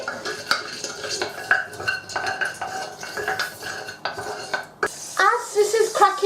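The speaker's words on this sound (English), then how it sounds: "We're just going to stir that around, let it infuse in the oil a little bit." Whole cardamom pods, cloves and bay leaves are stirred in hot oil in a cooking pot, with a utensil repeatedly scraping and clinking against the metal in an uneven rhythm over a faint sizzle, close and fairly clear.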